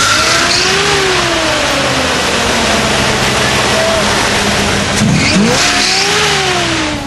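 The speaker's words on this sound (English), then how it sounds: "It's a 383 stroker running about 450 horse." A classic car's 383 stroker V8 of about 450 horsepower revs loudly at a car show, with repeated rising and falling engine sweeps over a roaring rumble, heard close up amid crowd noise.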